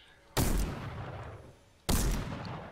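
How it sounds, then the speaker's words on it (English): Two loud, sharp gunshots ring out in Fortnite about a second and a half apart, each cracking hard and then fading into a lingering rumbling echo. "I'm trying to shoot somebody out of the air, but... Oh, I hit him."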